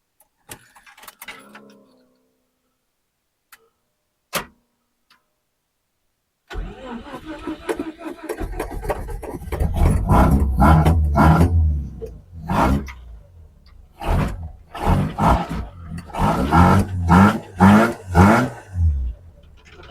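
A Datsun 510 with a weak battery cranks after a few faint clicks, then its engine catches and runs loudly, with uneven surges of revving and a rough idle between them.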